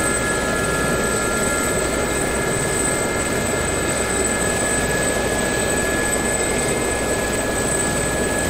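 A Ka-50 helicopter in the DCS World flight simulator, a loud steady rotor and turbine roar with a constant high engine whine, continuous and unchanging for several seconds without any talk.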